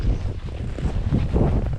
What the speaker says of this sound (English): this wind is actually insane